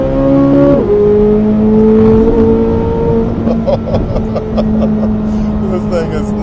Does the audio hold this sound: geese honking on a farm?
no